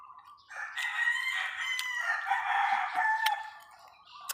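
A rooster kept at a house crows once in a long, loud, drawn-out call that rises, holds and trails off, close by and alone without talk.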